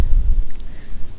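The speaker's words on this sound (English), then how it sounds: "you're out on the prairie, so catch all the wind" Wind rushes across an open prairie in cold weather and buffets the microphone with low rumbling gusts that rise and fall, with no talk.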